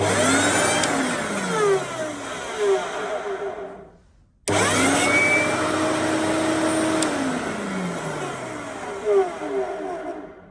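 An old vacuum cleaner motor whining loudly with shifting pitch sweeps, stopping briefly then starting again and running noisily, close by.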